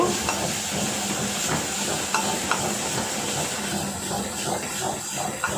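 Spinach cooking in a hot pan for a Sindhi-style dish is stirred and mashed after its water has cooked off, giving a steady close sizzle with soft scraping and squelching strokes throughout.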